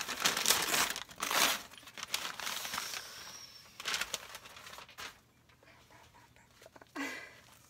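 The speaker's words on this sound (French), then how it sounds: "J'arrive même pas à défaire un bout de scotch." Close crinkling and crackling of packaging with tape being picked and tugged, in irregular loud bursts, with a quiet voice murmuring briefly.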